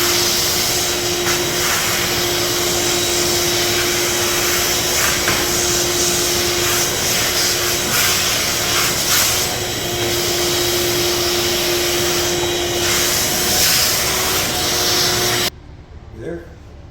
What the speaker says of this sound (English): You gonna vacuum?